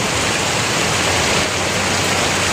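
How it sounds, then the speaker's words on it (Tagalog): Floodwater rushes steadily through a flooded tunnel in heavy rain, a loud, dense, unbroken wash of water noise filling the whole moment with no voices. "Baha na naman ang ating tunnel, no?"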